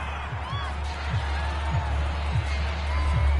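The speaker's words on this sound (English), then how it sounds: "This home crowd, they're happy with that call." A stadium crowd in a PS4 football video game cheers steadily after a call on the field, a broad, continuous roar heard at moderate loudness.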